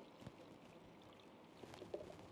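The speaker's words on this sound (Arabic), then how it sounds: "رح حط من هيدا المصر الواتر بقلب مرشة" Micellar water is poured into a spray bottle, a faint, short trickle and splash with a few small bright drips near the end, heard close and quietly.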